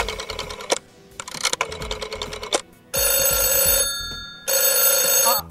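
A telephone rings for an incoming call: fast electronic trilling bursts in an on-off pattern, close and clear, with brief pauses between rings and no talking.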